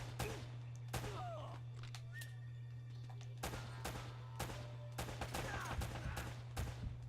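Enemy shotgun blasts in the game Uncharted: Drake's Fortune, several sharp booming shots at irregular intervals over a steady low hum.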